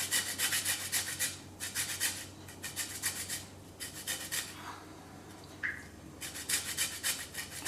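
Lemon peel zested against a grater, rhythmic rasping scrapes in quick bursts of strokes with short pauses between them, close and moderately loud, with no voice.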